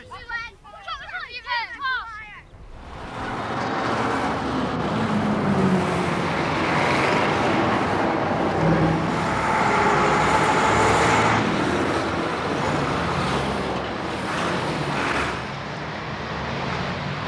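Steady traffic roar on a village main street in a 1979 British shinty town, continuous and fairly loud after a brief opening burst of voices and birdlike chatter, with passing vehicles swelling and fading.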